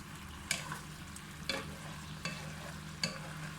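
Sea bass in sauce with Chinese celery simmers in a pan while it is stirred hard: four sharp scrape-and-clack strokes about a second apart over a faint, low bubbling hiss and a quiet hum. No voices.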